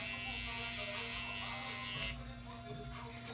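An electric hair trimmer buzzes steadily at close range with a constant hum, used on the temple area during a temple fade and neck taper haircut. No one speaks.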